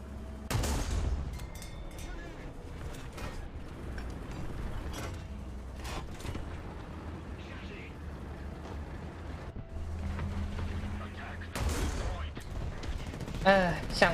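Tank cannon fire in War Thunder from a Char FCM 2C heavy tank: two loud booming blasts, one at the start and one near the end, separated by a steady low engine rumble.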